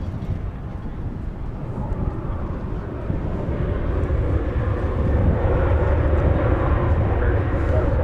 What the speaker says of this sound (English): That was American 2579 from Denver, an Airbus A321.